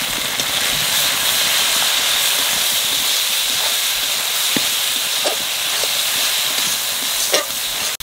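Ground spice paste with salt and turmeric fries in a pan for a stingray fish curry, giving a steady, close sizzling hiss throughout with a few faint scrapes of stirring.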